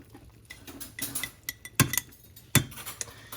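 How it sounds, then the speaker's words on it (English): A flour and butter roux is stirred in a pan, with scraping and clinking of a utensil against the metal. Two sharper knocks stand out near the end, and nobody speaks. "as we stir this cooked paste of flour and fat"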